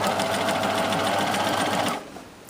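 A sewing machine runs continuously to stitch the inner leg seam of boxer shorts, a close, steady whirring hum that stops abruptly near the end.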